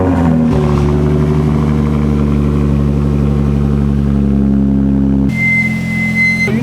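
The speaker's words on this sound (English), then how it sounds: "we're gonna get a little cold start on the 350Z" A Nissan 350Z engine cold starting, firing into a loud steady high idle that holds for several seconds before shifting tone, with a whistle-like whine near the end.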